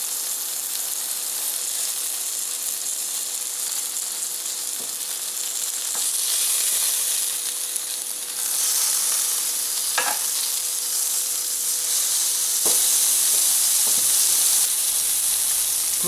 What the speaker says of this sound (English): Grill for about 5 minutes and then flip everything over.